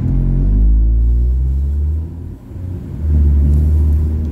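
Cars on a road rumble past close by, engines swelling loud, dipping briefly, then surging again as another vehicle goes by.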